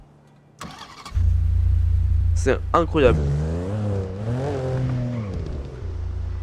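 Modded car engine in GTA V starts and settles into a loud, steady low rumble, then revs up and down in rising and falling sweeps, with someone speaking briefly over it.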